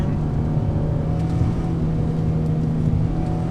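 Infiniti G35 with a manual gearbox pulling in second gear, engine revving near 4,500 RPM on Old Julian Highway, heard from inside the cabin as a steady, loud drone with road and wind noise and no pauses.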